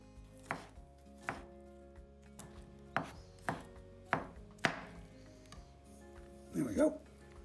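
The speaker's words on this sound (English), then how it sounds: "Then chop it finely." A knife chops a vegetable finely on a board while preparing courgette fritters, about seven sharp, evenly spaced close knocks, followed by a brief rustle at the end.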